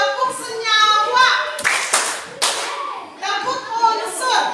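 A class of schoolchildren claps hands in rhythm during a science lesson, short patterned bursts of clapping alternating with children chanting along, close and lively.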